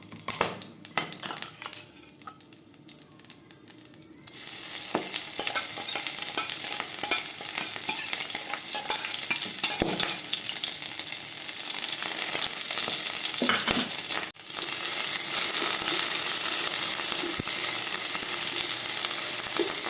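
Grated ginger fries with garam masala in a hot pan, giving a steady, loud sizzle with occasional stirring scrapes that swells after the first few seconds.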